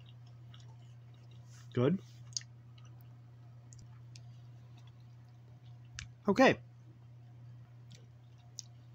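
Fruit Stripe gummy candy being chewed close to the microphone, two short bursts of moist chewing and clicking a few seconds apart over a low steady hum, with a couple of quiet spoken words.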